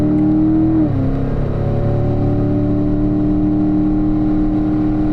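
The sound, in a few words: car accelerating and upshifting to fourth gear on track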